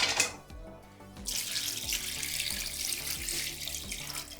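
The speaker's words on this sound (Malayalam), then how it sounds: "അരിഞ്ഞ കപ്പ 2 വെള്ളത്തിൽ കഴുകി വൃത്തിയാക്കി" Chopped tapioca being rinsed in water at a kitchen sink: a running tap pours and splashes steadily and close by, with no talking.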